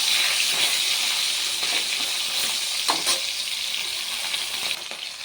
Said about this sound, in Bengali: প্রথমে মাছের মাথাগুলোকে নুন হলুদ দিয়ে ভেজে নেব